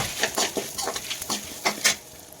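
Spices fry in oil in a kadai for a garlic pepper kuzhambu while a spoon stirs them, giving intermittent scraping strokes over a faint, steady sizzle, close up.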